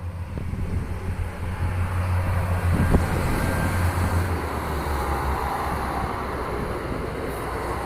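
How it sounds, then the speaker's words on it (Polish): A large train rumbles past at a moderate distance in the rain, a steady low drone with wind noise, growing slightly and then easing off. "Zobacz, jaki wielki pociąg jedzie."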